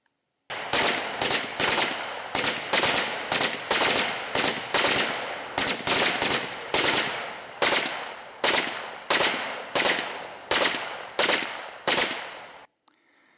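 Recorded gunfire from a shooting site plays as a long series of loud, sharp shots and short bursts in an uneven rhythm, with no talking over them.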